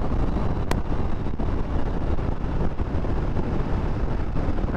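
A 1998 Honda VTR SuperHawk motorcycle in fifth gear around 50 mph, the rider rolling on the throttle; a steady, loud drone of engine and rushing wind fills the whole stretch without letup.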